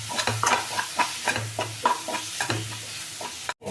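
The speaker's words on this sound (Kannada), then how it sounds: "ಟೊಮೆಟೊ ಮಸಾಲೆ ಎಲ್ಲ ಸ್ವಲ್ಪ ಎಣ್ಣೆನಲ್ಲಿ ಚೆಂದಾಗಿ ಫ್ರೈ ಆಗಲಿ" Tomato and masala frying in oil for a vegetable gravy, with steady sizzling and repeated scraping stirs in a pan, loud and close, no voices.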